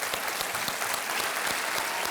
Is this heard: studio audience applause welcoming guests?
yes